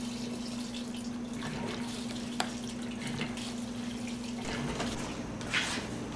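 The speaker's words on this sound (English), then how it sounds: "let's get some fuel flowing" Fuel runs into the gas tank of a Honda Sabre cafe motorcycle project, a continuous trickling, splashing liquid flow with a steady hum underneath and faint clicks, heard close up with no speech.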